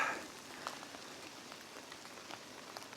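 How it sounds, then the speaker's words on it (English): Rain falling steadily during a bikepacking ride in Slovakia, a soft, continuous patter of drops on surfaces with no talk. "I know I said I didn't mind it raining, but I can't bother to get too wet"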